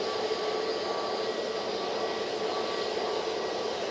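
A Jet2 Airbus A321neo departs Manchester Airport: a steady, distant jet engine roar with a broad rushing texture, constant in level and with no voices.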